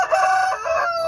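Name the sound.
ayam kampung jerai rooster crowing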